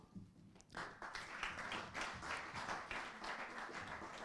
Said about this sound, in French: Je vous demanderai d'applaudir Benoît Chardon